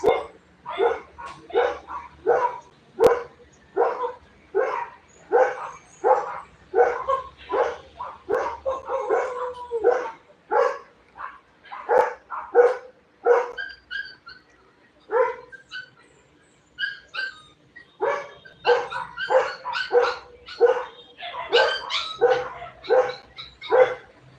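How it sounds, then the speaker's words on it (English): Many neighborhood dogs bark in quick, repeated volleys, with some yips and whimpers mixed in, going on almost without pause for the whole stretch at a fairly close, loud level. "So we have many dogs here in our neighborhood."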